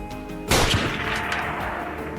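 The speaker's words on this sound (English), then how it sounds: "He steadied his rifle and pulled the trigger." A single sharp hunting rifle shot cracks out loud and close during a wild boar hunt on farmland, followed by a long decaying echo and rumble.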